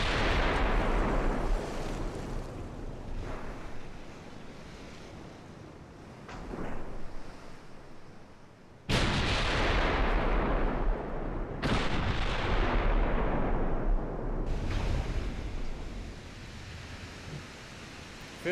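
Naval guns fire in Ultimate Admiral Dreadnoughts, heavy 15-inch shells booming in loud, rolling blasts that decay slowly, several shots spaced across the stretch, over a constant ocean-like wash and without speech.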